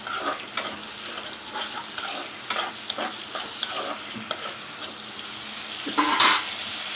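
Tomatoes sizzle steadily in hot oil in a pan alongside green chillies, garlic and curry leaves while being stirred, with repeated scraping knocks of a spoon against the pan over a continuous frying hiss.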